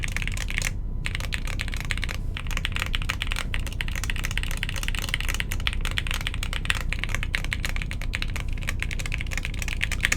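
Fast, steady typing on a Lubrigante Wildcard mechanical keyboard in an acrylic case, with dense close clacks running continuously and evenly throughout.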